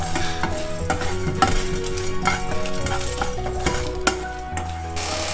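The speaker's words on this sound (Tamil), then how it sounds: "இப்போ இந்த பொடி இப்போ நான் அரைக்கிறேன்." An electric kitchen grinder whirs continuously as it grinds spice powder for karamani sundal: a loud, close, steady motor drone with rattling from the jar and blade, and a few sharper knocks toward the end.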